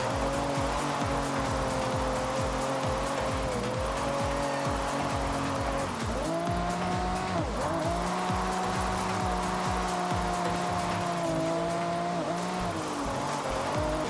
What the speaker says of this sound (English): The Toyota Supra can drift with an even crazier angle.